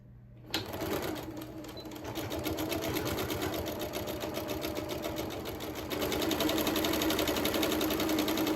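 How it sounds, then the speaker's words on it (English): A sewing machine stitching charm-pack quilt pieces at a quarter-inch seam: after a sharp start, a fast, steady mechanical rattle runs continuously and close by, growing slightly louder toward the end, with no talking. "Put the foot down and start sewing."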